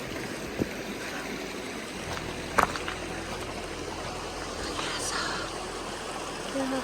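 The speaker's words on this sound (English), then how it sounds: "Yeah, across the creek." A forest creek flows with a steady, broad rushing wash that holds at an even level throughout, with a couple of faint knocks and rustles on top.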